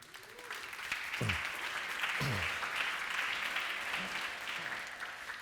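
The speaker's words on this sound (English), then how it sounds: "It's going to be a lot of applause tonight" An audience at a tech company keynote event applauds steadily, a broad wash of clapping that swells and holds, with a couple of brief whoops or cheers rising above it.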